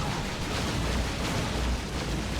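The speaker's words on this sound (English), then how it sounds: "Those Wraith Cannons are nasty." Wraith Cannons firing in the Warhammer 40,000: Dawn of War 2 strategy game, a dense, rumbling burst of explosive blasts filling the whole moment, loud and sustained without talk.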